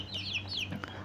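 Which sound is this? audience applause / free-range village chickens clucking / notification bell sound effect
free-range village chickens clucking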